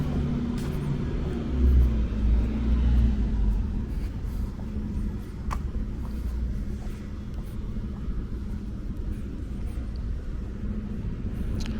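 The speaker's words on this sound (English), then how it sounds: "Nothing but delivery trucks down here." Delivery trucks idle and rumble on a Brooklyn street at 4 AM near 13th Avenue, a steady low engine drone, louder at first and then settling into a continuous background hum with no voices.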